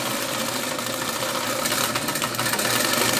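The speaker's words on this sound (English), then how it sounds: "Right now I'm just gonna sew this at a half an inch seam allowance." A sewing machine stitches a half-inch seam on a fabric pillow cover, a steady continuous mechanical whir that runs close and even throughout, with no talking.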